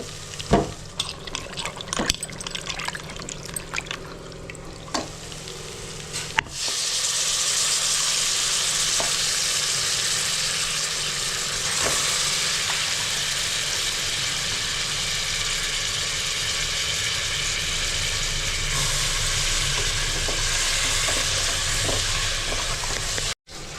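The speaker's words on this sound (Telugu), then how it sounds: "ఇందులో మొత్తం ముక్కలు వేసిన తర్వాత బాగా కలిపెట్టాలి" Goat meat pieces stirred in a hot pan, scattered scraping clicks at first, then a loud steady sizzle and frying hiss with occasional spoon scrapes, close and continuous, with no talking.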